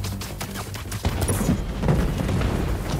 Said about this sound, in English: fireworks. They're lit.